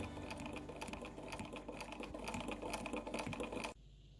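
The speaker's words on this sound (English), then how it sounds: "So then we can just sew along and do it like that" Vintage Australian-made Pinnock sewing machine stitching fabric, a quiet, steady rapid mechanical clatter lasting about three and a half seconds before stopping abruptly.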